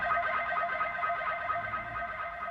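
A sustained synth bass tone with a reverb plugin's feedback adding a hazy, distorted, chorus-like tail in a kick and bassline production, heard as a steady midrange drone.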